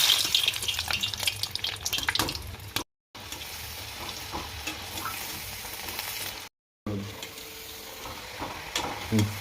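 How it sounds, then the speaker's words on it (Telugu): French fries sizzle in hot oil with a steady crackling hiss and occasional bubbling bursts, close and fairly loud, broken by two brief silent cuts. "సరే ఆయిల్లో ఫ్రై చేద్దాం ఒకసారి"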